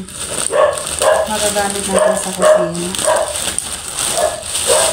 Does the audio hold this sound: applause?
no